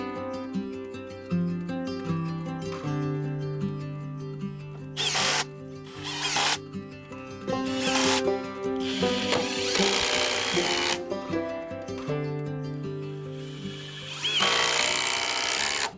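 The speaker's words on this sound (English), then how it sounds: "Now I just need to cut 7 more joists at 7 feet, 9 inches." A power tool cuts wooden shed joists to length, a steady whining drone broken by several loud bursts of cutting, close and continuous with no talk.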